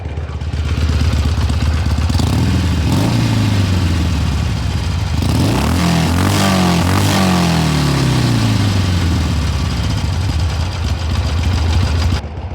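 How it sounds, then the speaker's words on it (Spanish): A Harley-Davidson 883 SuperLow V-twin motorcycle engine idles loudly up close, then is blipped through several rising and falling revs before settling back to a steady rumble, with no talking. "Ahora vamos a acelerarle un poco."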